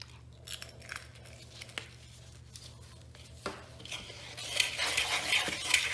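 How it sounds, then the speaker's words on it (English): A bath bomb mixture with purple glitter is stirred in a bowl, giving soft scraping and gritty swishing that starts faint and grows louder and busier near the end, alone without talk. "Now we're just going to mix this until everything's well blended."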